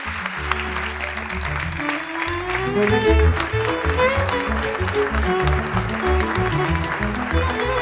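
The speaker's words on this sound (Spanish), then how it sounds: "Por favor, un grandísimo aplauso." Audience at a podcast anniversary special breaks into sustained applause, dense clapping holding steady and swelling slightly midway, with music playing underneath throughout.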